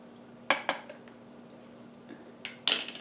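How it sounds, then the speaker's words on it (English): Citrus zest of orange and lemon being scraped off a microplane zester with a small spoon, giving a few short metallic scrapes and clinks in two brief clusters with quiet gaps between. "you might need a little spoon or something to scrape it off your microplane or your zester"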